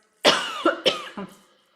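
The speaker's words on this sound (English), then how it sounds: "Everybody cough" Several coughs in quick succession, loud and close, four distinct bursts with a short pause between each, trailing off at the end.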